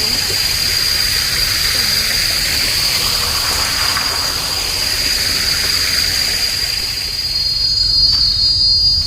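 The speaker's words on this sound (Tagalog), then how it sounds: "Kuliglig lang maririnig niyo dito." A steady, high-pitched chorus of crickets chirping continuously, with a dense hiss of insects filling the background throughout.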